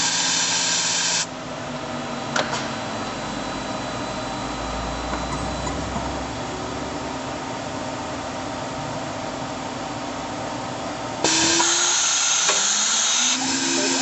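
Citizen R-04 CNC Swiss lathe with live spindle and parts catcher running a cycle, a steady mechanical hiss and whir with brief clunks and a rising tone where the machine shifts, heard close without talk.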